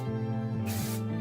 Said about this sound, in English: take a little bit of light hold hairspray and spray just the frame of my face